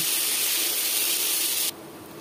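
Chopped onions frying in a pan for a duck curry, a loud, steady sizzling hiss that cuts off abruptly to a quieter, softer sizzle near the end.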